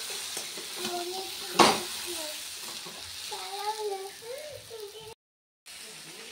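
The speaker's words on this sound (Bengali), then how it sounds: "মাছ ভাজছি" Fish fries in a pan with a sizzling, crackling hiss, one sharp pop near the start, while someone talks over it and falls silent briefly near the end.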